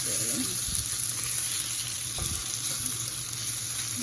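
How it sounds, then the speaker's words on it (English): Shrimp frying in a pan: a steady, close sizzle and crackle running throughout, with a few soft clinks of stirring in the middle. "I'm gonna cook my shrimp first"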